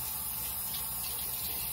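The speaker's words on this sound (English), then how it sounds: "So I'm going to rinse this off." Water runs steadily from a tap into a sink while face cleanser is rinsed off, a continuous close splashing stream with no speech.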